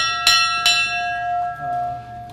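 Two sharp strikes of a fire truck bell in quick succession, clear and ringing, with a long sustained metallic hum fading out afterward.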